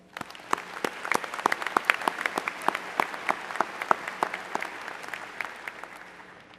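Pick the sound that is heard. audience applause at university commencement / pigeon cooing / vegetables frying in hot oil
audience applause at university commencement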